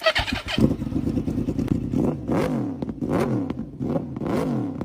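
A 2011 Yamaha R1 sport motorcycle fitted with a Movistar body kit revs hard nearby, its engine rising and falling in repeated sharp throttle blips over a rough idle.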